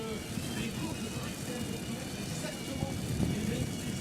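Hemi-powered pulling tractor Bobcat Senior at a European tractor pulling event in Bernay, its engine a loud, steady, broadband roar with a slight swell near the end, under an announcer's continuous commentary.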